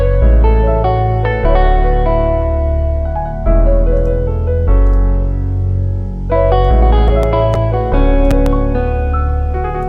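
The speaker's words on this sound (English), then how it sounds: "Also went ahead and added this electric guitar out of Contact. It is the Evolution Jazz Archtop." Sustained chords from a Kontakt Evolution Jazz Archtop electric guitar ring out with a warm, clean jazz tone and light echo, played steadily with a few strummed changes and no talking.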